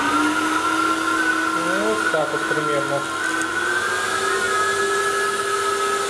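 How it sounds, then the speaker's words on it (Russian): A vacuum cleaner connected to an AquaCyclone water system whines at a steady pitch, loud and close, while a person speaks briefly over it. "Включаем пылесос."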